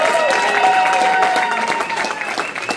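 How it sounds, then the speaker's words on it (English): Comedy club audience applauding and cheering for a comedian finishing his set, a steady dense wash of clapping with crowd noise throughout, loud and close. "Clap it up for my guy, Ed McGowan!"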